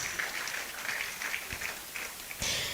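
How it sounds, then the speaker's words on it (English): Applause for sponsors at a university white coat ceremony in a hall, a steady wash of clapping from a moderate-sized crowd at middling volume, swelling louder near the end. "A round of applause for all our sponsors."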